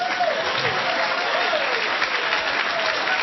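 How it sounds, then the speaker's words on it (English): Dense applause from a comedy show crowd fills the space, a steady wash of clapping with faint cheers. "Thank you for the round of applause"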